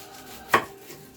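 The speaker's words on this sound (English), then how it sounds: "the onion, you want to cut the top off" A single crisp knife chop slices the top off an onion on a cutting board, one sharp close thunk standing alone in a quiet room.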